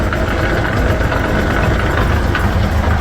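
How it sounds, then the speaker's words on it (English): A tractor engine idles and drives a gearbox through a shaft, giving a steady loud low rumble with a faint knocking rhythm. The sound is close and continuous with no voices. "You can now see the power is coming out of the tractor and going into this gearbox."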